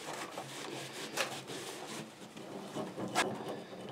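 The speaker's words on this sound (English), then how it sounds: "do a little wipe down here and see what we come up with" A rag wipes down a grimy small-engine part, making close, steady rubbing and scrubbing with a few sharper scrapes mixed in, at low level against a faint background hiss.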